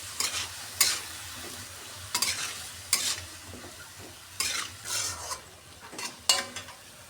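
Turmeric, salt, chili powder and cumin paste stirred in a hot pan for a fish-head dish, soft sizzling broken by several sharp scraping strokes of a spoon against the pan, close and moderately loud with no talking.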